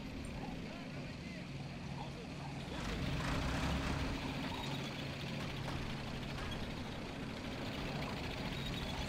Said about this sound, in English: I can hear a tank now.